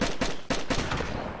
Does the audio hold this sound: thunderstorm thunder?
no